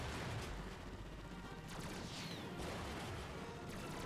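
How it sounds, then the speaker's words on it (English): Grenades bursting against an airship in the Ratchet and Clank video game, a dense, noisy rumble of blasts with a few sharper cracks, fairly loud and continuous throughout. "I'm hitting you with the grenades"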